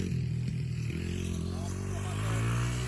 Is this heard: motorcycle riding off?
yes